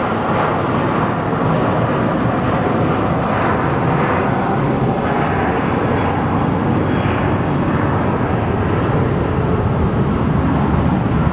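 An airliner roars down the runway and climbs away at Phoenix Sky Harbor Airport, its jet engines a loud, sustained broadband rumble that holds steady throughout with no talking.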